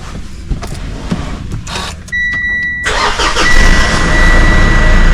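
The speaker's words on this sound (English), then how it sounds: "so you can jump start the car now" A car engine is jump-started with an Adventure Kings MK2 jump starter: a few clicks, a brief starter whine with a high tone, then the engine catches and settles into a loud, close, steady idle.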